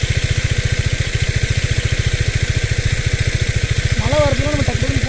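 A motorcycle engine idles with a steady, rapid low thump while a radiator fan whirs alongside, the bike parked at a quiet, empty campsite; a voice briefly speaks toward the end.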